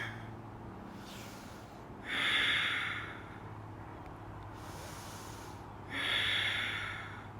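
Slow, deliberate breaths during a seated yoga twist, two distinct breathy exhales a few seconds apart, close and fairly loud over a soft steady background hum.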